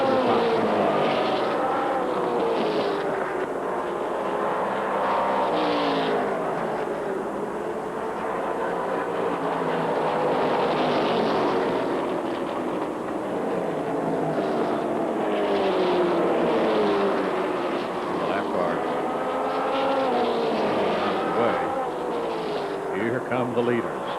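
Late model race cars on the Five Flags Speedway oval, a pack of engines droning and sweeping past with rising and falling pitch, continuous and fairly loud under an announcer's commentary.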